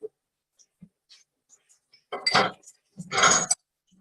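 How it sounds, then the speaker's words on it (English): A child handles a metal kitchen whisk, producing two short bursts of clattering, clinking metal against a hard surface, separated by quiet pauses with faint scattered taps. "That's a whisk."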